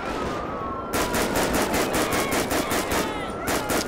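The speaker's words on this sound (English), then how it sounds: "Who's shooting?" Rapid automatic gunfire in the video game GTA 5, a police gang unit patrol shootout, sounds as dense repeated bursts of loud shots with a brief quieter lead-in before the firing starts.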